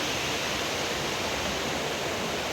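A rushing stream flows loud and close as a dense, constant wash of water noise with no breaks. No voices.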